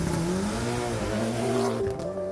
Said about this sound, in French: Une course de voitures s'y est déroulée